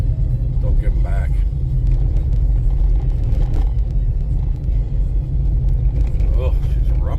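A car rumbles along through slush on a road after a snowstorm, a steady low engine and tyre drone with a voice talking over it.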